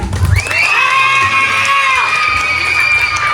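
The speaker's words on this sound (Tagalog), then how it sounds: "isang malakas na palakpakan at sigawan!" Excited children shriek and cheer with a crowd at a first birthday party, the high shouts rising and sustained over a noisy group.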